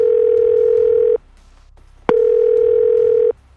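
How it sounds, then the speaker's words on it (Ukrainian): A telephone ringback tone plays two long, steady, loud beeps separated by a pause while a call to a friend connects. "Зараз зателефоную твоєму віртуальному другу."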